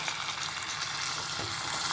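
Onion and garlic fry briskly in hot oil in a pan, a loud steady sizzle with stirring, for a quick ivy gourd (tondli) stir-fry.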